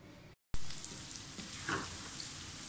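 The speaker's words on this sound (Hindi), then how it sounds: "प्याज हमारा फ्राई हो रहा है।" Onions fry in a pan for a mixed vegetable dish, giving a steady close sizzle with a brief gap near the start and a slight swell of spattering midway.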